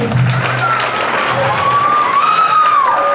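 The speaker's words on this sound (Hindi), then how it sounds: "इसके लिए एक बार फिर आप जोरदार तालियां बजाइए।" Loud, sustained applause from a crowd at a free computer course certificate distribution ceremony in Narayanpet, with a voice or tone rising over the clapping.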